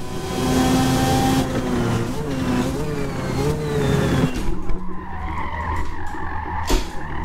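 Mazda RX-7 sliding sideways in Forza Motorsport, a loud sustained tire squeal over a revving engine whose pitch rises and falls, followed by sharper revs and brief bursts of screech.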